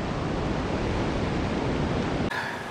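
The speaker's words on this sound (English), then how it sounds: "I'm pretty sure you can hear that we've made it to the river." A fast-flowing river reached after a hike down, heard as a loud, steady rushing wash of broadband water noise that cuts off abruptly near the end.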